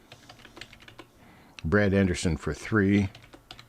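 Keys click in quick, irregular bursts on a new computer keyboard, fairly near. Someone talks briefly partway through while the light tapping carries on.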